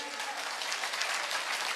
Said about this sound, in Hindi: मिस्टर सुखदेव सिंह रावत के लिए जोरदार ताली।